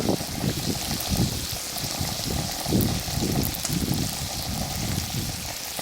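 Bacon frying in a pan at a campsite crackles with a soft continuous sizzle, small pops and a faint rhythmic bubbling underneath, moderately close with no talking.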